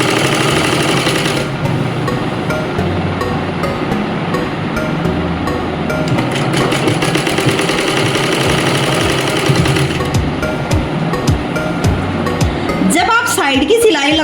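A sewing machine stitching a pant seam runs loud and close in dense, rapid rhythmic bursts, shifting pace several times, with a voice talking over it.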